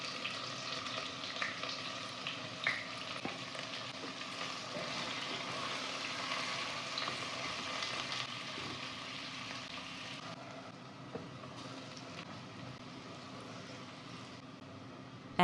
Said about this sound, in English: Add sliced onions and fry until golden brown.